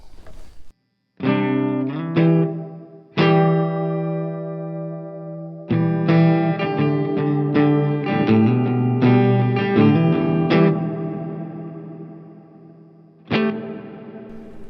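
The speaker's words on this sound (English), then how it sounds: "Let's go to the hall, see what this one sounds like." Electric guitar run through the hall setting of an M-Vave Mini Universe reverb pedal: strummed chords and picked notes ring out loud and close with a wide, lingering tail between strikes, and nobody talks.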